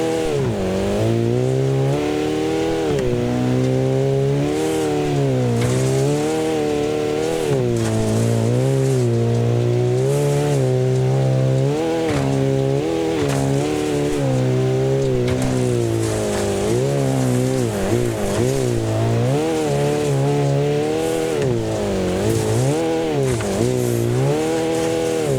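A race car engine drones steadily and loudly throughout, its pitch rising and falling repeatedly with gear shifts and revs, synthetic and game-like.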